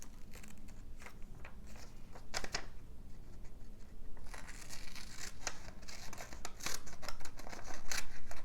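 Scissors snipping around a paper picture for a red and gold collage, a close series of crisp cuts and rustling paper crackles, irregular and intimate, with no talking.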